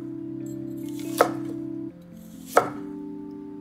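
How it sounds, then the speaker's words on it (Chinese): A kitchen knife chops peeled taro into roll-cut chunks on a cutting board, two distinct, close knocks spaced apart over a faint steady hum. "切块的时候呢也是比较简单，我们是滚刀块。"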